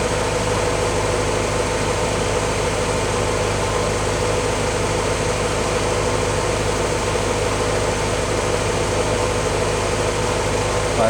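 A Willys L-head engine idles after a cold start, a steady, loud, unbroken drone with a low hum and broadband rumble that stays even throughout.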